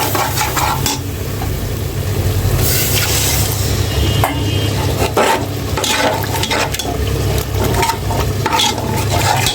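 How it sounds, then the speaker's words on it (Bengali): Mixed spices sautéing in a pan for khichuri, with a continuous loud sizzle and frying hiss, plus repeated scraping and stirring strokes of a utensil against the pan, close up. "সব ধরনের মশলা নিয়ে কষিয়ে নিচ্ছি এখন"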